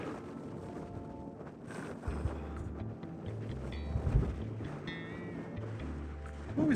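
Steady wind buffets the microphone with low rumbling gusts throughout, swelling a little toward the end.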